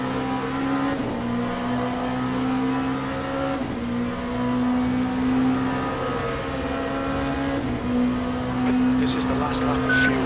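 A race car's engine in a multi-class racing game at the Monza Curva Grande, steady high droning whine closing on and passing a slower-class car, constant and close with no speech.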